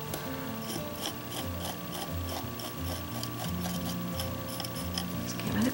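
Acrylic paint is skimmed across a textured surface at an angle, giving a soft, continuous scraping rasp with faint repeated strokes over a low background hum.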